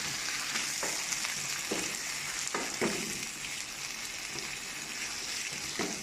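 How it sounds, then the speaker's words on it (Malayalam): Onion, potato and green chili fry in hot oil with mustard seeds and curry leaves as a spoon stirs them in a pan, a steady close sizzle broken by occasional scraping strokes. "ഉള്ളി കിഴങ്ങ് പച്ചമുളക് നല്ലവണ്ണം ഇളക്കി കൊടുക്കുക"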